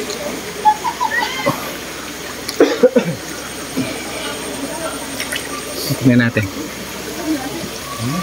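A stream of warm water at a natural hot spring resort flows with a steady, broad rush that stays constant throughout, while people talk over it nearby.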